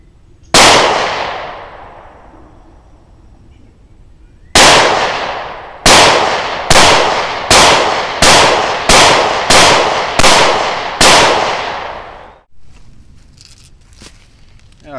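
Ruger SR9c handgun fired outdoors: one sharp shot, a pause of several seconds, then a rapid string of about eight loud cracks in steady rhythm, each with a short ringing decay, and no talk.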